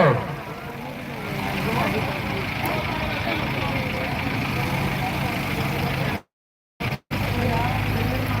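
A tractor engine running steadily at a village tractor-trolley pulling contest, a continuous low rumbling drone that holds even for several seconds, briefly cutting out near the end before resuming.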